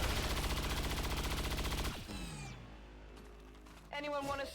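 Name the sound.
rapid gunfire in XCOM 2 Long War of the Chosen video game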